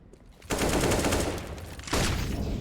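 Gunfire in a Counter-Strike esports match crackles in two bursts, a rapid volley starting after a quiet moment and a second burst near the end, fairly close and sharp.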